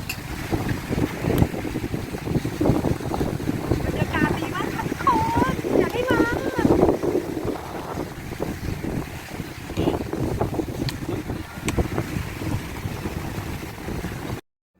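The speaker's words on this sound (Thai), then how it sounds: "ขนาดได้ยินเสียงลมนะคะ คือลมแรงมากค่ะ" Strong sea wind blasts the microphone on the beach at Jomtien, Pattaya, in a steady loud buffeting roar while someone talks throughout and some street sounds come through.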